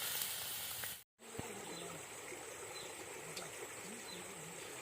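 Mutton fat melting in a pan in a village kitchen, giving a steady soft crackling sizzle with a brief dropout, while a voice talks over it.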